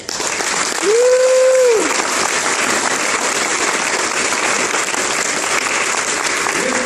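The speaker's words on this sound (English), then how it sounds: "So give him a round of applause" A meeting crowd applauds a newly appointed assistant chief, a steady wash of clapping that fills the whole stretch, with a brief tonal hum near the start.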